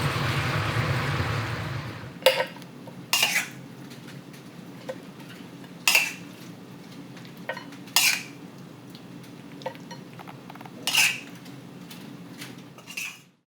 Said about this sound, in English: Once that's all in, give it a good stir.